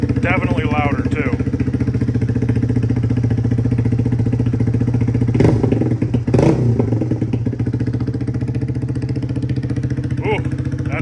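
A Honda Grom fitted with a Vance and Hines exhaust idles loudly nearby, then gets two sharp throttle blips that swell and drop back to a steady, deep, pulsing idle.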